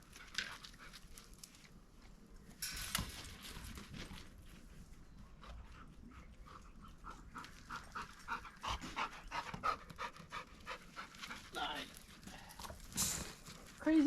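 A tired dog panting in rapid rhythmic breaths close by, faint and irregular at times, with a person speaking over part of it.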